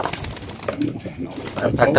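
White racer pigeons in a numbered cage coo in soft throaty bursts close by, mixed with rustling and shuffling, while people talk at the same time.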